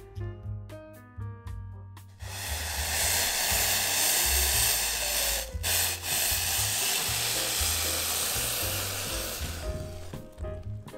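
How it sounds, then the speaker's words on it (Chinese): 300 g of water heating toward a boil in a cooking pot for glutinous rice dough, a steady broadband hiss and rumble that starts abruptly after a brief musical intro and continues under soft background music. "把300克的水倒入到锅中烧开"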